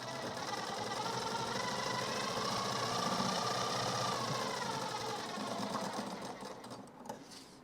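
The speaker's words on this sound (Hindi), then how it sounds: "अब इसमें मजबूत 2-3 सिलाई और दे देंगे।" A sewing machine runs steadily while stitching a blouse, putting in a few reinforcing stitches at a corner. The motor hums at a constant pace, close and alone, then eases off briefly near the end.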